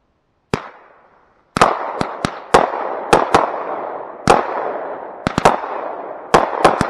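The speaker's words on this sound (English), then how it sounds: "All right, Afterburner by Boomer Fireworks." An Afterburner 200g consumer firework cake by Boomer Fireworks sets off a string of sharp, loud reports, some single and some in quick pairs, each with a crackling tail and an irregular rhythm.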